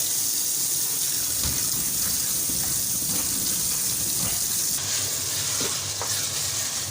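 Salted arvi (taro root) being washed in water, a constant loud rush of running water and splashing with small knocks of the pieces being handled.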